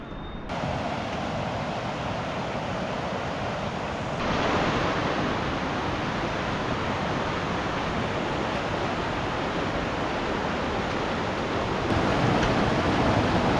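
Elk Creek rushes along a Colorado Trail crossing in the mountains between the Animas River and Molas Pass, a steady, loud, close wash of flowing water with no voices, swelling slightly after a few seconds.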